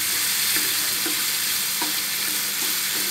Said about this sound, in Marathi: हे भाजून घ्यायचं चांगलं तेलामध्ये.